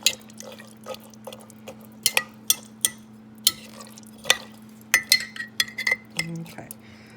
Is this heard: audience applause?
no